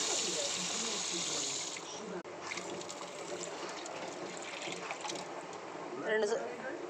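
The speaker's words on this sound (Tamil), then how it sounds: "2 சொம்பு தண்ணி ஊற்றிக்கலாம்." Water pours and gushes steadily into a cooking pot, two jugfuls for making vermicelli, a continuous rushing flow that shifts slightly in tone partway through.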